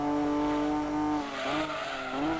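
Tyre squeal from a drifting race car in the video game Gran Turismo 2, a loud sustained screech with shifting pitch over engine roar.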